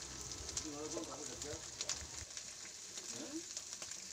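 Chicken and yardlong beans fry in a pan for fried rice, giving a faint, steady sizzle with a soft, brief murmur of voice underneath.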